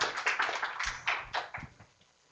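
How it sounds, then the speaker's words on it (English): A small audience at a professional talk on industrial hygiene gives brief applause. Scattered claps fade out within about two seconds. "So I'd like everyone to give her a round of applause."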